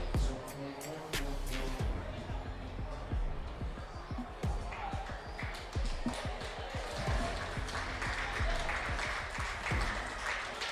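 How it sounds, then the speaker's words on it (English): Crowd at a district final baseball game applauds and cheers as the team trophy is presented, with loud sustained clapping, sharp thumps and a commentator talking over the noise. "Loud applause."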